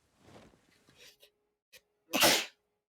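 A single sharp, loud sneeze bursts out near the end, preceded by a few soft, indistinct mouth noises and breaths in an otherwise quiet room.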